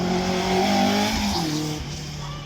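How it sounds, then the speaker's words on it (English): A 595-kilogram supercar with about 500 brake horsepower accelerates hard at a demonstration run, its engine note climbing then dropping as it shifts up quickly, loud and close without any voices. "Changing up through the gears nice and quick."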